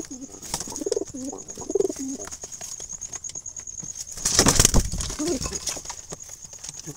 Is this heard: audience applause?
no